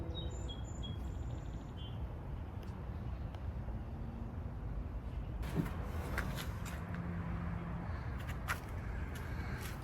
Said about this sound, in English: We seem to have a small murder of crows.